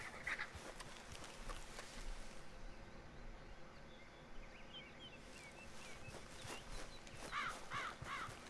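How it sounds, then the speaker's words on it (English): Crows caw in the game Red Dead Redemption 2, faint harsh calls coming in short bursts at the start and again near the end over a quiet outdoor ambience. "I know that was a raven, but the telltale crow."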